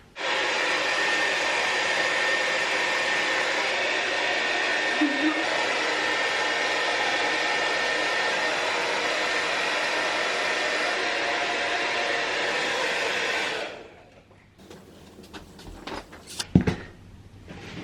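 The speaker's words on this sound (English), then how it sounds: "Time to blow dry." A hair dryer blows loudly and steadily for about fourteen seconds while hair is dried after cutting curtain bangs, then switches off, leaving quiet handling noises and a brief clatter.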